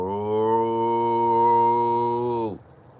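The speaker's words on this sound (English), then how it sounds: "make it sound just like a cow when you hit it" A novelty object struck to make a cow's moo gives one loud, close, sustained lowing tone that holds for about two and a half seconds, then cuts off abruptly.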